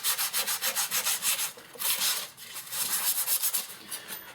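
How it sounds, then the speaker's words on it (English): Wood filler on a practice guitar body built from 2x4s is hand-sanded with quick rhythmic back-and-forth strokes, close and loud, with a short pause between runs and no talking. "give it a quick just touch up on the sanding"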